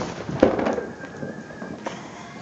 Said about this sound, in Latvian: Petarde on zapali, se ne pali.